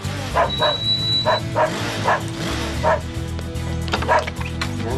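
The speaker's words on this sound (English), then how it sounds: "Tell your stupid dog to leave us alone." A dog barks repeatedly in a run of sharp, evenly spaced yaps, close and fairly loud, with a little background noise between barks.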